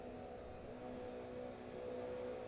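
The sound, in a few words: GR86 race car engines revving before a standing start, sim racing game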